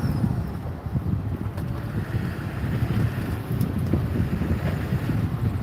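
A diesel flatbed truck drives over a rough road with a steady, close engine rumble and a low drone throughout, mixed with wind buffeting the microphone; no one speaks.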